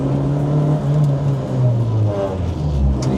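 A rally project car on a brake test drive, speeding up to 30 and 50 between stops: a steady, close engine drone rising in pitch as it accelerates, with road rumble and no talk.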